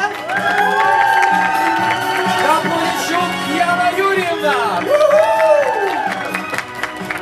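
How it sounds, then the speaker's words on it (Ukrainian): Wedding guests at an outdoor ceremony cheer and applaud with a dense, steady crowd roar, while a host's amplified voice speaks over it and a melody plays underneath. "Аплодуємо, панове!"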